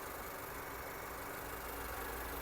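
A Dacia Duster's steady, even engine idle rumbles throughout, a constant low hum with no knocking, changes in pace or revving.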